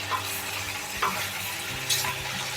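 Chicken necks being mixed in a pan with a vinegar marinade give a soft, steady sizzle, with a few brief scraping stir strokes near the start and end. The sound stays fairly quiet, and nobody speaks.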